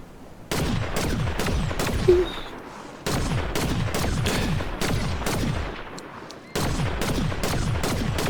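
Gunfire in Fortnite: rapid bursts of game weapon shots in several loud sustained volleys separated by short pauses, close and dense.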